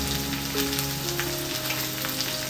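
Half a bowl of sesame seeds sizzling in hot oil with curry leaves for a tempering: a steady, dense crackling fry with a faint tonal hum running underneath.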